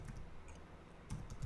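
Short burst of typing on a computer keyboard while entering a URL, a quiet run of soft clicks that thickens into a denser cluster of keystrokes near the end, alone with no talk.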